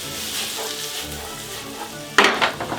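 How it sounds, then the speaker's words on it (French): Chopped onion and garlic sweat in a frying pan with a steady soft sizzle, and a sharp clatter of a utensil against the pan comes near the end. "oignon, ail dans la poêle, le rescapé, on égalise, on va les faire suer sans coloration"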